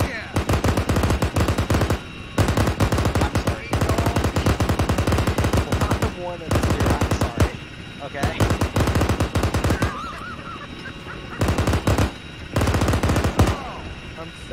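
Rapid bursts of airsoft gun fire at a cadet corps reunion game, loud and close, in repeated volleys separated by short pauses, with excited shouting from players between and over the shots.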